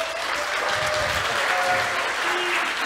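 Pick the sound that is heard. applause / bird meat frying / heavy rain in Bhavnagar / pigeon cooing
applause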